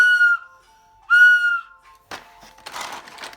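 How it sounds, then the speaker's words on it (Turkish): Two shrill, wavering toy flute notes sound close by, followed by clattering and rustling handling noises. "şimdi de flüt çalmaya başladı"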